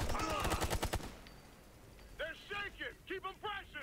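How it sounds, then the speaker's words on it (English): A rapid, loud volley of automatic gunfire fills the first second in the video game Ghost Recon: Future Soldier, then stops, followed by voices talking. "Open fire."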